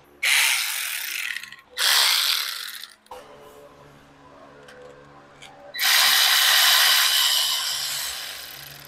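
A hand ratchet loosens 15 mm bolts while an oil pressure sender switch is replaced on a car. Bursts of rapid pawl clicking come close and loud, with a quiet pause in the middle before a long final run of clicks.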